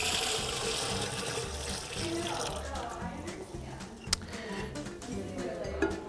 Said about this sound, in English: our next step is to pour 2 quarts, 64 ounces of prepared brewer's detergent into the Vessi